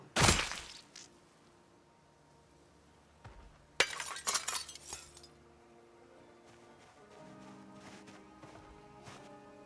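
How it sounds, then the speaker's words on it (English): A zombie smashes a window in a zombie survival video game: a sharp crash at the start, then a burst of breaking, tinkling glass a few seconds later, followed by quieter clinks and faint background hum. "he's gonna smash the window in a second"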